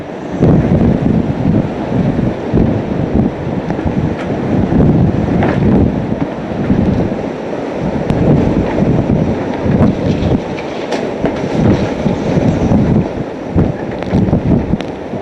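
Hurricane Katrina's winds roaring and buffeting a microphone, loud continuous gusting rumble with surging bursts, no voices, recorded outdoors in the storm on the Gulf Coast.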